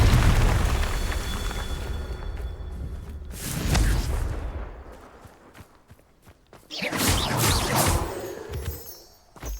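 Confringo fire spells in Hogwarts Legacy burst into booming explosions, two big rumbling blasts with whooshing debris, the second one longer and crackling as it fades.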